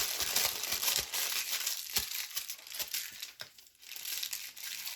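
A plastic piping bag crinkles and rustles close up while its tip is cut off, with crisp irregular crackles and small snips in continuous handling and no talking.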